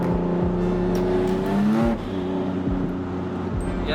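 An Acura RSX engine with a slipping clutch revs, its pitch climbing steadily for about two seconds before dropping off, then it drones on at lower revs, loud and close.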